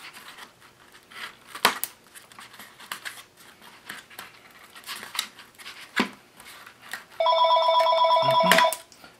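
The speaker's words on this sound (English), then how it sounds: "Another phone call." A telephone rings with an incoming call partway through a papercraft session of trimming a glued paper turkey, a steady electronic trill about a second and a half long, loud and close, following scattered snips and paper rustles.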